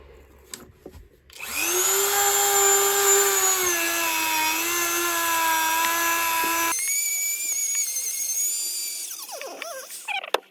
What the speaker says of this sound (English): Try the old Dremel.